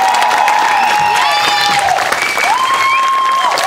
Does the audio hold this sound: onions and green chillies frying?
no